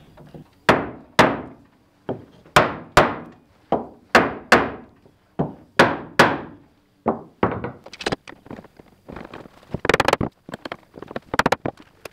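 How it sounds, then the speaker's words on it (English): Wooden mallet knocking laminated oak strips down against plywood while bending a 2.5 m curved oak roof beam: a steady run of loud, sharp wooden thuds, about a dozen evenly spaced, then quicker, busier knocks and taps toward the end. "I used a mallet and block of wood to knock them down against the plywood"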